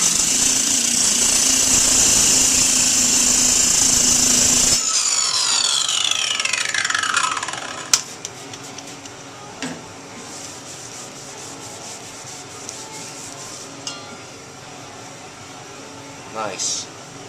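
A shrinking disc grinds loudly against a dented car body panel, a steady abrasive whir that winds down, followed by quieter scattered taps and light handling noises.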